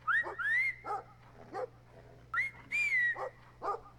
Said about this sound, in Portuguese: O cachorro aqui não tá prestando bastante atenção no garotinho.